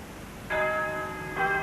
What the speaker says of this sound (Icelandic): Hvers vegna verið að hringja kirkjuklukkunum?